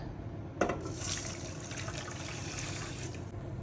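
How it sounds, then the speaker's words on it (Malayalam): Water from a glass pours into a pot holding a rosemary mixture for homemade hair serum, a steady splashing fill that starts abruptly and runs for about three seconds at close range. "ഇതിലേക്ക് ഒരു ഗ്ലാസ് വെള്ളം ഒഴിച്ച് കൊടുക്കുന്നുണ്ട്"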